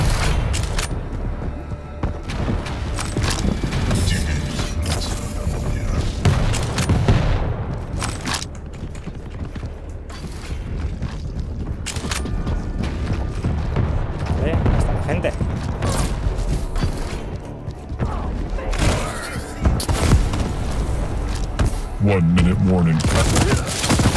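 Repeated shotgun blasts in the video game Quake Champions, sharp booming shots fired in quick bursts over chaotic arena-shooter effects and music, with a player talking in Spanish over much of the action.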